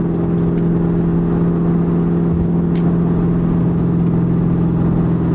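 Ford Mustang GT with a 4.6 V8 and 4.10 gears cruising, a loud steady engine drone with a constant low hum and road noise from inside the car, no talking.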